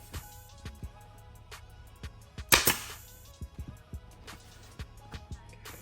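A staple gun fires staples into a Sea-Doo Spark Trixx seat cover, giving one loud sharp snap near the middle amid quieter clicks and taps, close by with no talk.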